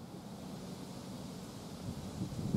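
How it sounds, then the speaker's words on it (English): Wind buffets the microphone in a steady, low rumbling rush that swells slightly toward the end. "It's kind of windy out."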